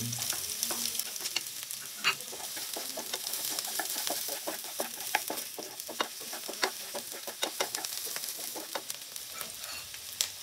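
Onion and garlic sizzle in a hot pan, soft crackling punctuated by sharp scraping clicks from stirring, fairly faint and close with no talking.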